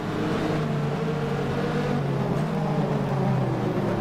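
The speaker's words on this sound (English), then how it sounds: "You can hear the Vipers getting quite close on the brakes." Dodge Viper GT race cars brake hard close behind in a 2000 FIA GT racing game at Silverstone, a dense, steady engine drone with a low hum that holds throughout, loud and without pause.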